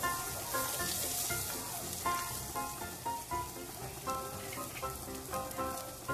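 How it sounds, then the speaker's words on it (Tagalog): Garlic frying in a pan after ginger, with a loud, dense, continuous sizzle and crackle and intermittent stirring, close and alone without talk. "Haluin lang po hanggang medyo mag-golden brown. Isunod na po ang bawang."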